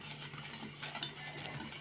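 Chocolate pieces being stirred in a pot on the stove for a no-bake cake, a soft, steady scraping and swirling that is faint and continuous, with a low hum underneath and no talking.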